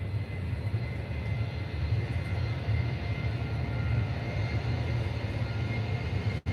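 Jet2 airliner at Faro airport, a steady broad engine roar held loud and constant from start to finish with no voices.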